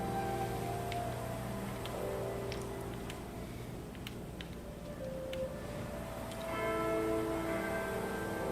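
A video game bell rings in a slow series of soft, faint chimes over a hazy, droning background ambience, with no one speaking.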